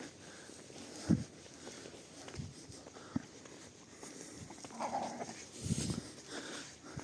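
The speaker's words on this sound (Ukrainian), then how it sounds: "Дві ну собаки намагаються товаришувати." Dogs shuffle and scuffle nearby, with soft whimpers, yips and a few muffled thumps spread across the clip.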